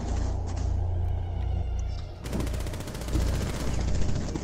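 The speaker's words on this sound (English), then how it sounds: "What kind of shooting was that?" Rapid bursts of gunfire in a first-person shooter game, a dense crackling volley that intensifies into sustained automatic fire partway through, loud and close, with no talking.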